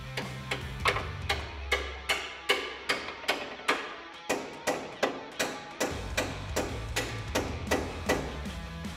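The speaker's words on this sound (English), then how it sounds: "use a hammer to tap that bolt out" Repeated sharp metallic hammer taps on a bolt during a lowering kit install on a 2009-2013 Ford F-150, in a steady rhythm, about two per second, with a brief pause midway before the tapping resumes.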